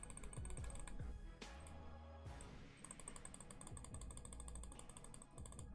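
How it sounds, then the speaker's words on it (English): Rapid, dense computer keyboard typing and mouse clicking during Rise of Kingdoms play, close and constant with no one speaking. "I'm gonna mute this so you don't hear me clicking constantly"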